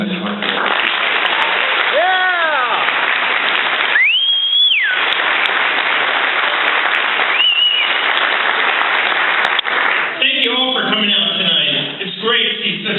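A hotel crowd at a Ron Paul event at the Kirkwood Hotel applauds steadily to welcome a speaker, with loud whistles rising over the clapping and voices coming in near the end.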